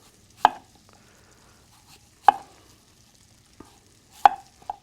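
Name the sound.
knife cutting and dicing an apple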